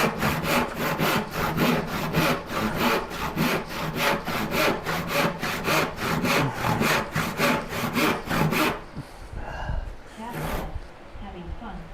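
A freshly sharpened hand plane takes rapid rhythmic strokes across wood, each pass a crisp shearing rasp repeating about every third of a second for several seconds before slowing to a few scattered scrapes and handling noises.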